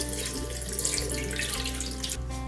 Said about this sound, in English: Wash the rice until the water is clear and drain well.